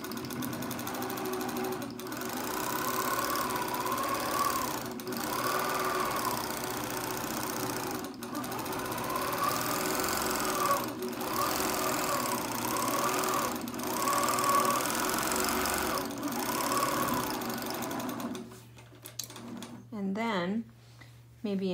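Sewing machine stitching in a steady run to lock the threads on a quilt. The motor hums continuously with brief pauses, then it stops and some handling noises and a little talk follow near the end.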